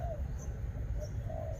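Soft dove cooing, a few low hollow notes at a moderate distance, over a steady rumbling background.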